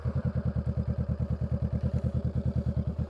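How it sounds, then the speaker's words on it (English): A Honda Rebel 500 motorcycle engine runs alone and close by, giving a steady, fast, even thumping pulse that does not let up. "So let's start the bike"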